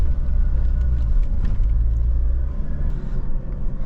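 A car crawls along a bumpy dirt fire trail in the bush near Yarrangobilly Caves, a steady loud low rumble of engine and tyres with jolting knocks from the rough surface.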